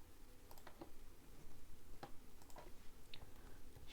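Keys clatter on a computer keyboard as someone types code for a web app button, giving close, irregular clicks and taps in short bursts with no talking.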